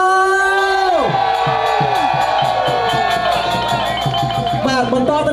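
Audience at a Khmer temple night market in Stockton, California, cheering and shouting loudly, with rhythmic clapping pulsing beneath a wash of raised voices over continuous background noise.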